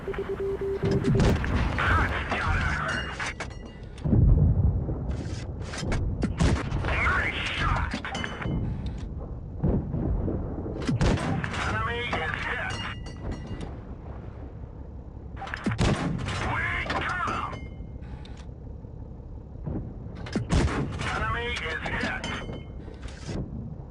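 In a tank video game, heavy cannon shots boom out several times at irregular intervals, each sharp blast trailing off, with mechanical clanks between them while someone narrates over the gameplay.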